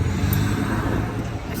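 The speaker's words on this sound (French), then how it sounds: "Je sais pas si on nous entend bien parce qu'il y a vraiment de la circulation." Steady road traffic rumbles around a stopped car in heavy circulation, a continuous low drone with a passing swell or two and no talk.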